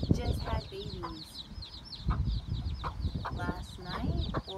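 A hen that has just hatched chicks clucks repeatedly at close range alongside other chickens, with a person speaking briefly over the clucking.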